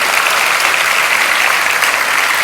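Dense, steady applause from a large audience at a university freshers' welcome celebration, loud and continuous throughout with no voices over it.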